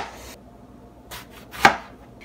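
A knife cuts through eggplant on a board, with a couple of soft strokes and then one sharp, close chop before quiet.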